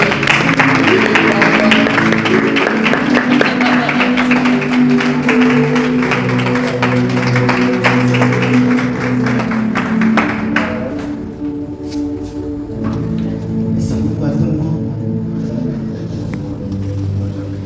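Applause and cheering from a church congregation, with dense clapping blended into loud music and voices for about ten seconds before the clapping drops away and the music carries on.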